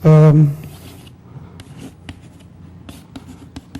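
Chalk or marker strokes scratch across a board during a mathematics lecture, a series of short irregular scrapes and taps, close and moderately loud, following a brief burst of a voice at the start.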